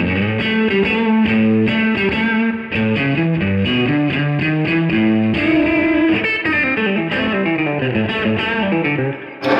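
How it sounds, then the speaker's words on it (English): Electric guitar, Strat-style into a Marshall-like Plexi tone, played through the red side of an Origin Effects Revival Drive with slapback echo, delivers a continuous overdriven melodic phrase, loud and close, with no talking. "just leave the echo on and turn on the red side of the Revival Drive. This is more like my straight Plexi."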